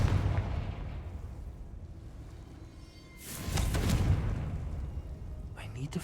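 A Confringo explosive spell goes off in Hogwarts Legacy, a sudden loud blast that rolls out into a rumbling boom over steady background game ambience.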